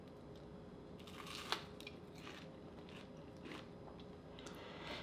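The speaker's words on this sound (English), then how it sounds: "I want you guys to listen real carefully as I bite into this thing. You'll just hear this awesome, really thick, crunchy coating on there." A crunchy low-carb keto onion ring with a thick, nut-free coating is bitten, giving a few quiet, close crisp crunches followed by soft chewing.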